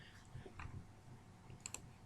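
Faint, short computer mouse clicks, two crisp ticks close together near the end, over a quiet room hum.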